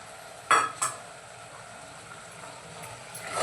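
A spoon clinks twice against a pot as tomato paste is stirred into chicken curry, with a faint simmer and scraping underneath and a soft swell of stirring at the end.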